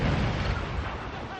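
Ship cannon fire in Assassin's Creed IV Black Flag, a single heavy booming blast with a rumbling tail, loud and close, under faint narration.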